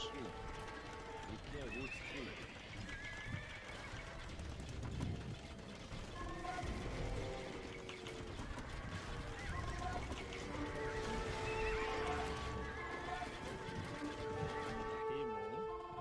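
Horse neighing and hooves clopping at stables in a strategy video game, mixed with honking fowl and busy game ambience, continuous and moderately faint beneath someone talking throughout.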